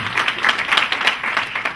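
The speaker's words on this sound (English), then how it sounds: "Can we clap for the members of the further state?" Audience clapping at a sanitation strategy launch event in Nakuru County, a steady patter of many hands filling the moment without a break, fairly close and moderately loud.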